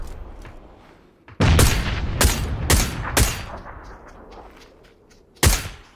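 Gunfire bursts in a battle royale video game, several loud sharp shots clustered mid-clip and one more near the end, over quiet background.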